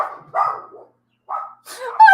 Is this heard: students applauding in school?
no